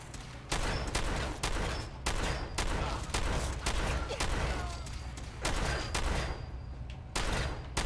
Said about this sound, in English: I'm wasting a lot of shotgun ammo